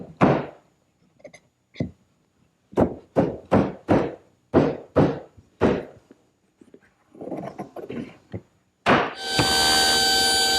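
Sanded tiger maple washstand pieces knocked and tapped together during a dry fit: a run of sharp, close wooden thunks in irregular bursts, with scattered lighter taps, ending in a loud steady hiss.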